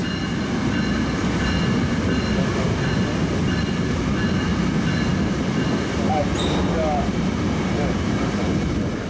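A northbound Tri-Rail passenger train rolls past nearby, a loud, continuous rumble of wheels and rail noise with faint metallic squeals throughout.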